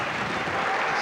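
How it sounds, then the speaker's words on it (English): A boxing crowd gives a standing ovation, dense and continuous applause filling the hall at steady volume. "it is a standing ovation from the crowd and the stewards of the border control"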